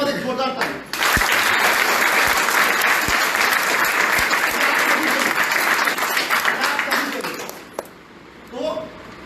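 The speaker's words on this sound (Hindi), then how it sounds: "एक जोरदार ताली" An audience at a business seminar in India breaks into loud, sustained applause, many hands clapping in a dense roar for several seconds before it tapers off and a voice returns.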